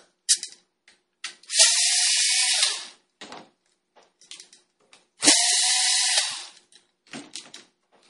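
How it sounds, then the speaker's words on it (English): Small electric screwdriver removing two screws from a Panasonic KX-TGA270 cordless phone handset, two close whirring bursts of about a second and a half each, with light clicks and handling noises between them. "You take the battery cover off first, and there's two screws right under here."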